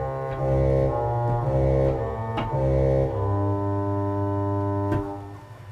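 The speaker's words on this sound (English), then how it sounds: "If we take the 16-foot trombone on this pedal" A 16-foot trombone reed stop on the pedal of a Hauptwerk virtual pipe organ plays deep, buzzy sustained notes, a few changing pitches held loud and alone, with no talking.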